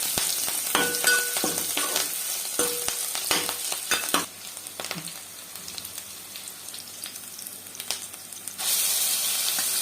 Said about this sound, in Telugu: పచ్చిమిర్చి, కొంచెం ఎర్రగొచ్చేంత వరకు వేసుకున్నాం.